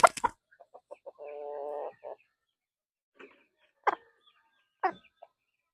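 Bulwark hen on a backyard farm giving a string of short clucks, a drawn-out nasal call and a few sharper squawks with pauses between, close and clear with no talking.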